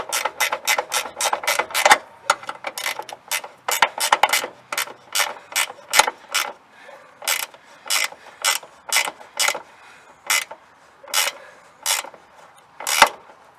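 A hand ratchet tightens a battery terminal on a Jeep Cherokee, giving sharp clicking strokes close up. A fast run of clicks is followed by slower, evenly spaced bursts, with no voices.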